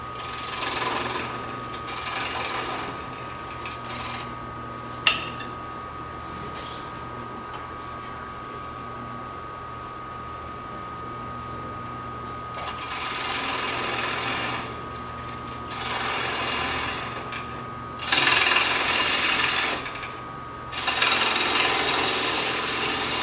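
A wooden tenon is cut off by hand on a woodturning piece during a woodworking club meeting, heard as repeated rasping, sawing strokes in short bursts close by, with a sharp click early on.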